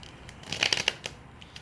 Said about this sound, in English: Shuffle hard, shuffle again.